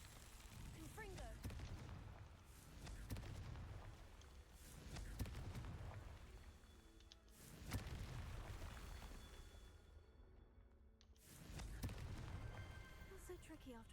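A Confringo fire spell in Hogwarts Legacy bursts in three loud, booming blasts with sharp onsets, each rolling into a long crackling, rumbling decay, layered over busy game music and effects.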